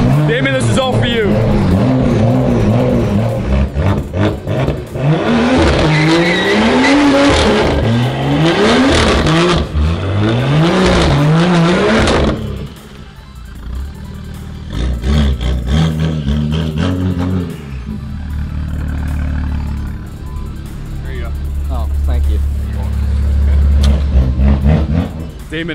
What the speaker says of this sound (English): I think I'm learning how to make people do burnouts the way you do